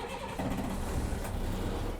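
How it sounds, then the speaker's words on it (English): A bus engine starts and settles into a loud, steady diesel rumble, heard from inside the cab during a CDL Class B pre-trip exam, with no talking. "We're now gonna start our engine."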